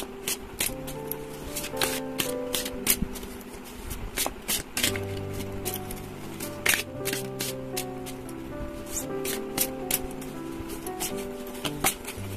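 Tarot and oracle cards being shuffled by hand, a run of crisp riffling and flicking bursts in quick succession, close and clear over a quiet room with a faint low hum.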